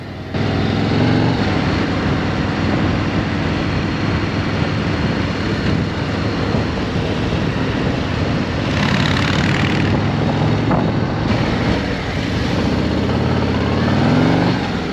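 Motorcycles ride past with a continuous, loud engine drone, steady throttle and rumbling exhaust carrying throughout with no pause.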